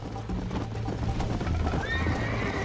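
A horse in Red Dead Redemption on Xbox 360 whinnies over a steady, rapid clip-clop of galloping hooves, close and continuous for the whole stretch.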